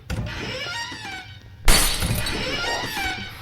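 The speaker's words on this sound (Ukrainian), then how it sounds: "Що це розбилося?" Something shatters in the Roblox horror game Froge, a loud sudden crash of breaking glass that bursts out mid-clip over game ambience and trails off in scattered debris.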